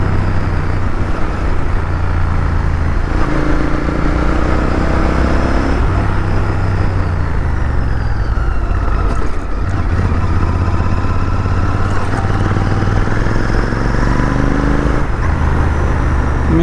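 A black Royal Enfield Interceptor 650 motorcycle rides along a road, its engine droning steadily under heavy wind rush, with repeated rising and falling pitch sweeps as it shifts through the gears.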